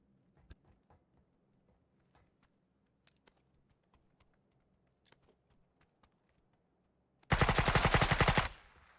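Quiet scattered clicks and small taps give way to a loud, rapid burst of automatic gunfire lasting about a second and a half near the end, from the video game PUBG on console.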